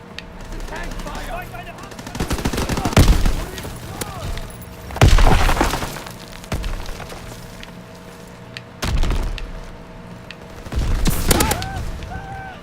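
Shotgun blasts and flamethrower bursts in Call of Duty: WW2 multiplayer come as several loud, clustered volleys of booming fire, separated by quieter gaps of game ambience.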